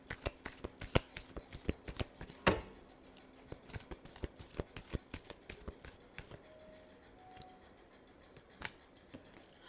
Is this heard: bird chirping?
no